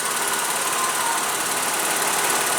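A 2015 Toyota Camry XSE with a 3.5 L V6 engine running, a steady, loud, close hum that holds level throughout with no talking.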